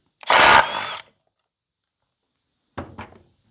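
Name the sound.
power tool removing flywheel from Echo CS 800P chainsaw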